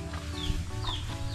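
Several chickens clucking close by at a house in the Philippines where wood is being painted, short rising calls repeating over a low steady background hum.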